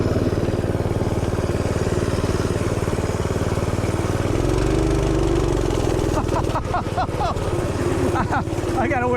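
An OryxEarth BRM200-2 gas mini bike engine runs steadily and loudly while ridden off-road through overgrown grass, its pitch rising partway through, with rustling and clatter near the end.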